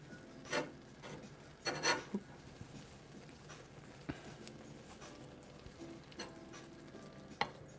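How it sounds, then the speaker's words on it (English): Claypot rice with Chinese sausage, tomato, green beans and matsutake mushrooms is stirred over raised heat, giving quiet scraping and rubbing strokes with a few louder clacks over a faint low sizzle. "And we'll stir this all together."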